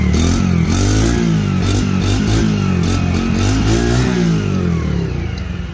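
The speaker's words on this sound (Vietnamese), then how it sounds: "bây giờ mình sẽ test nổ máy cho anh em mình nghe này" A Honda Rebel 50cc motorcycle engine idles and revs steadily up close, with repeated throttle blips rising and falling for several seconds before easing off at the end.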